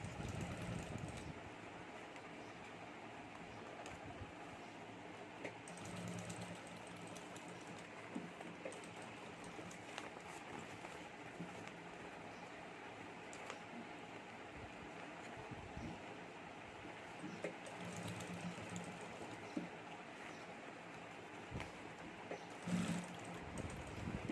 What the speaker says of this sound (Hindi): पाइपिंग जो हमारे राउंड में रख देनी है और यहाँ हमें सिलाई कर देनी है